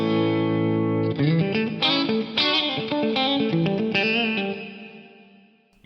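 A Lexicon PCM81 effects unit plays 100% wet reverb with no chorus or delay: a sustained tone swells into dense shimmering echoes that slowly decay over several seconds, loud and alone.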